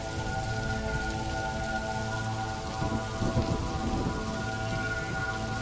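Steady rain falls on garden leaves with a continuous soft patter and a low rumbling undertone, unbroken and evenly loud throughout, with no voices.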